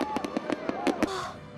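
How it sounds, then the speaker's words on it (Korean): Fireworks bursting over an open night sea, a quick run of sharp cracking pops followed by a fading crackle, fairly faint under a voice speaking. "확 트인 밤바다 위 오색빛깔의 불꽃의 향연들"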